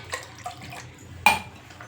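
Water is poured into a couple of cups in a home kitchen while curd is being set: soft trickling and one sharp splash or clink, close and fairly quiet, with no talking.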